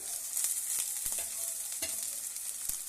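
Carrots and beans roasting in an oiled pan for masala rice, a steady sizzle and crackle with occasional scraping stirs, close and continuous.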